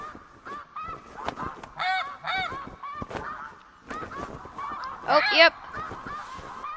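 A flock of snow geese honking in the hunting game TheHunter Classic, repeated nasal honks layered from several birds at mid distance, rising into a louder burst near the end, with someone speaking briefly over them.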